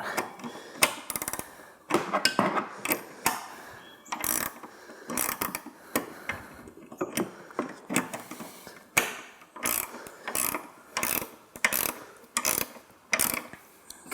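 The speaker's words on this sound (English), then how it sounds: "we're going to take a size 13 wrench here, a size 14 here to hold the top" Size 13 and 14 wrenches tightening the bolts of a hood-mounted Cree LED light bracket on a 2017+ Ford F-250 Super Duty, heard as close, repeated ratcheting clicks and metallic turns in short irregular bursts.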